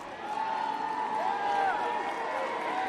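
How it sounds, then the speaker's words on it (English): Hockey crowd at an All-Star Game between the Eastern and Western Conferences, cheering as a steady roar that holds at one level throughout, with a few tonal whistles or horns drifting above the noise. "And the crowd's getting into it."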